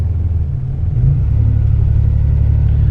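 A 1986 Buick T-Type engine idles with a low, steady rumble, then its note rises and holds as the car pulls away in drive, close and loud without talk.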